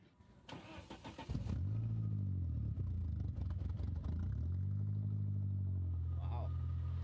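A Dodge Shadow engine with a 3-inch exhaust cranks and starts, then settles into a loud, deep, steady idle with a throaty rumble, briefly revving once.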